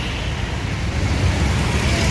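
A bus rolling past on a road near a bus agency depot in Cikokol, a steady broadband engine and road roar that swells slightly as it nears, with no talk over it.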